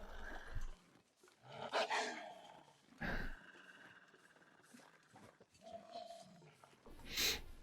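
Wolves growl unseen in thick mist in The Long Dark, low rumbling snarls rising in several bursts amid windy game ambience, fairly close and menacing.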